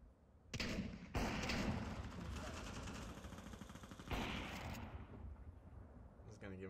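Heavy gunfire in the video game Counter-Strike 2, a dense roaring burst of rapid shots lasting several seconds that fades into quieter ambience, with voices speaking briefly at points.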